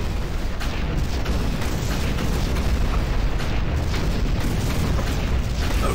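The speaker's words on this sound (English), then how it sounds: "He shot the pipes!" Pipes shot and bursting in Doom 3, a continuous loud roaring, hissing rush with deep rumbling booms throughout, like pressurized gas or steam blasting out steadily without pause.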